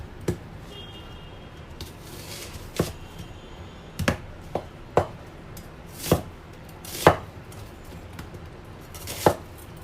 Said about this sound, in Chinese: 洋葱切块